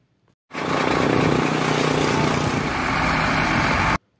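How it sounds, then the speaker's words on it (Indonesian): A dump truck engine starts up and runs steadily close by, a loud, rough mechanical rumble that holds for a few seconds and then cuts off abruptly. "Dump truk merupakan alat pengangkut yang berfungsi untuk memindahkan material dari satu lokasi ke lokasi yang lain."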